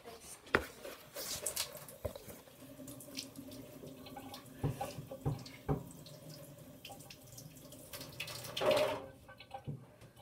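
Water runs from a tap during handwashing, a quiet, steady splashing stream with scattered clunks and knocks and faint voices in the background.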